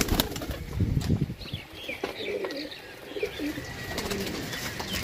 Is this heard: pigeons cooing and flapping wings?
yes